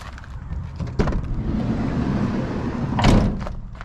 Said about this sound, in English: And I'll just open the side door to show you.